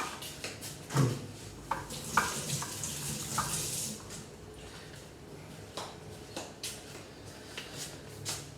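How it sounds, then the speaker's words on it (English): Tap water running in a kitchen sink while hands are rinsed, a hiss of a few seconds mixed with light clinks of dishes and cans. "Let me rinse my hands real quick."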